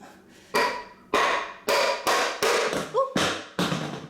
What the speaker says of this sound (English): Here I'm using a 2x4 and a hammer to pop the old port out.